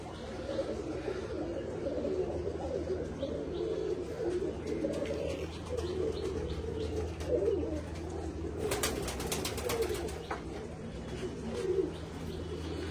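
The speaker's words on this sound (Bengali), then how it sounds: "দেখো এই পায়রা, দেখো দেখো একটা পায়রা" Pigeons coo in a loft, a steady low murmur of overlapping calls that runs throughout, with a brief burst of broadband rustling noise partway through.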